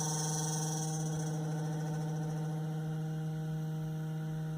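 A Ryobi propane-powered generator engine runs steadily close by, its tone wavering slightly in a continuous, even drone with a faint whine above it.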